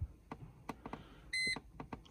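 A Mercedes ML W168 dashboard gives a single clear electronic beep, a steady tone lasting about a quarter second, after several button clicks during an oil service reset.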